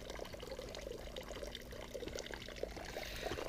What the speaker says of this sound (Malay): Tengah-tengah hutan macam ni ada pula pipe air ni